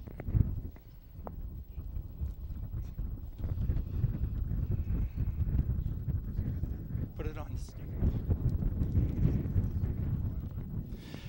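Strong gusts, about 30 miles an hour, buffet the microphone at an outdoor announcement stage at Pocono Raceway, a steady low rumble throughout with voices heard underneath.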